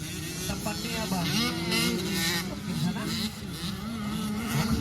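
Kids' 65cc motocross motorcycles race at a barangay event in Lugait, their engines buzzing and revving continuously under an excited announcer's commentary.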